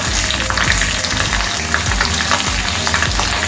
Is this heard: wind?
no